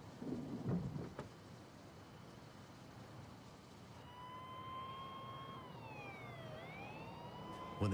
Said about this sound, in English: Hearing the sound of sirens, Rick drove toward them